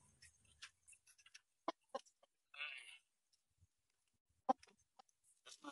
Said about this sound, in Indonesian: Ayam pikat tu pula.